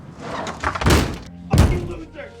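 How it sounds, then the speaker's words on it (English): A door is slammed shut, giving two heavy, close thuds about half a second apart that stand out loudly against a quiet background. "He shut the door, leaving his son outside in tears."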